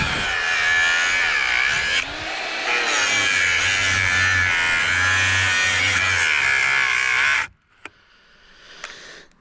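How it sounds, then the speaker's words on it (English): A cheap angle grinder cuts steadily, whining loud and close for about seven seconds before stopping abruptly, leaving a near-silent tail with a couple of faint clicks. "That's the worst thing with these cheaper grinders."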